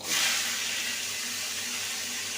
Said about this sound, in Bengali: ফোড়নটাকে ভেজে নেব মিষ্টি গন্ধ বেরোলে এবার বাকি সবজিগুলো দিয়ে দেবো